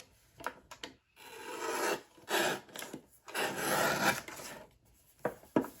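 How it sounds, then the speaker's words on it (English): Rough rasping strokes from a paper trimmer cutting through gift bag paper come in repeated bursts of uneven length, close and fairly quiet, with no speech. "This trimmer is actually giving me a really hard time."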